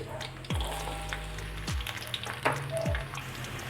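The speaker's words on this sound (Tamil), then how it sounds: "இஞ்சியோட பச்சை வடை போகும் வரை நம்ம இந்த எண்ணெயில் நல்லா வதக்கிக்கலாம்" Ginger sautés in oil, a low, steady sizzle beneath a few soft knocks and scrapes from a stirring utensil, with faint watery clinks near the end.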